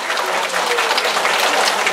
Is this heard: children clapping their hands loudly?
yes